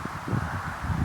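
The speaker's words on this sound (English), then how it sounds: "It's a bit windy." Wind blows outdoors at an airgun shooting range, buffeting the microphone in soft, uneven low gusts over a faint hiss, with no talk.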